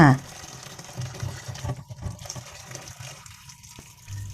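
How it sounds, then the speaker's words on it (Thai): Water gushes and splashes while papaya is washed, poured out and refilled in a basin, a steady running flow with a brief louder splash at the start and some voice underneath. "ล้างยางมะละกอออกแล้วเทน้ำทิ้งค่ะ แล้วเติมน้ำเข้าไปใหม่ค่ะ"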